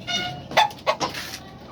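White Kelso chicken clucking close by, three or four short clucks in quick succession over a light background hiss.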